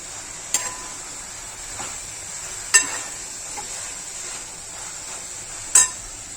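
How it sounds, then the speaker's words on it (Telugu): Coriander, tomato and green chillies frying in a pan for chutney in a home kitchen: a steady soft sizzle throughout, broken by three sharp utensil clinks. "కొత్తిమీర, టమాటా, అలాగే పచ్చిమిరపకాయలు అన్నీ ఫ్రై చేస్తున్నా చట్నీ చేయడం కోసం"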